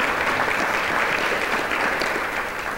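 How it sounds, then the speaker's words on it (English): A town-hall audience at an annual state-of-the-town address breaks into steady, dense applause, loud and sustained throughout, fading only slightly near the end with no voices over it. "Give her a round of applause."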